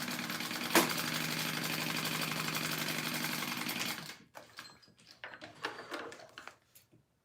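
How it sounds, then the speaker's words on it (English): A sewing machine bastes a narrow strip onto a handmade wallet with a steady, fairly loud whirring stitch run for about four seconds. It then drops to quieter scattered handling noises. "I am going to just baste this little strip down here too, just so it stays put"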